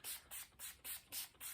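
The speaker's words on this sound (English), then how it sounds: "I'm gonna spray water on it." A spray bottle mists water onto a trombone slide in six quick, evenly spaced hissing bursts, close and soft, with no talking.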